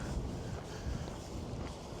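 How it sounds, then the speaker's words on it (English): Soft, steady wind rumbles and blows against the microphone, a low continuous rush without pauses. "weather advisory in effect right now, so definitely pretty windy today"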